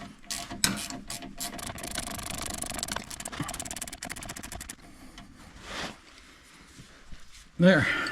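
A ratchet clicks in quick bursts as it tightens a homemade end link on a 2007 Chevrolet Silverado. Rapid, close mechanical ticking runs through the first half, then quieter rattles follow and a sharp clank lands near the end, with some talking at times.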